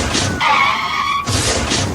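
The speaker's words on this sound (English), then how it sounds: "This high-speed chase ended abruptly when the driver of the sedan crashed directly into a truck that was transporting jet fuel" A sedan at the end of a high-speed police chase crashing into a truck transporting jet fuel: loud tire skidding with a sustained squeal between two broad bursts of impact noise, all close and intense.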